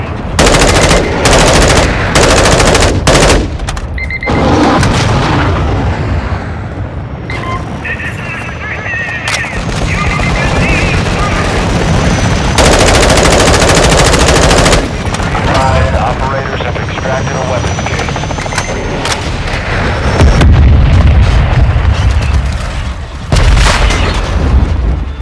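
Intense battlefield din from the Call of Duty: Modern Warfare II video game: a missile strike booms amid rapid machine-gun bursts, helicopter rotor roar and heavy explosions, loud and continuous with brief pauses between volleys.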